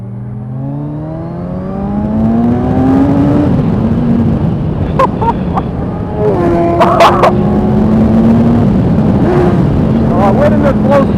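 A 2015 Kawasaki Ninja 1000 accelerating on the road, its engine note climbing steadily through the gears with rising pitch, loud and close alongside steady wind noise.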